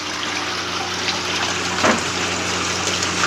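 An aquarium filter pumps water in a fish room, a steady rushing, bubbling wash with a low constant hum beneath it, continuous and close.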